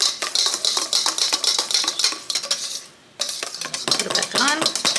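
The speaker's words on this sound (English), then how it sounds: "Keep whisking." Hollandaise sauce being whisked in a metal pan, with rapid, rhythmic scraping clinks from the whisk striking the sides, loud and close. The whisking pauses briefly, then resumes.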